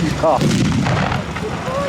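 Booming explosions at an outdoor WWII battle reenactment in Lębork rumble loudly and continuously, with a dense low roar throughout. A loudspeaker commentator talks over the blasts.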